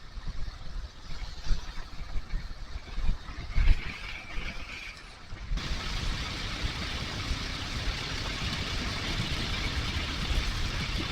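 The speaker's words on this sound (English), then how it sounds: "I'm going to see if I can do 20 miles an hour on this motorcycle." A motorcycle engine drones under rushing wind while riding at about 20 mph through Sandwich Notch, steady and rumbling, with the wind noise growing stronger halfway through.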